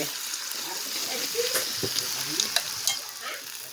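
Steady, close sizzling of meat grilling in a hot pan, with occasional scraping and stirring sounds over the hiss.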